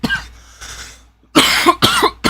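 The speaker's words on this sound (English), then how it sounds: "I'm gonna keep coughing" A man coughs in several harsh, close bursts, first two rougher hacks, then a short pause followed by three quick, loud coughs in succession.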